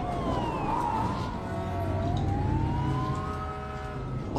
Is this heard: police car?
yes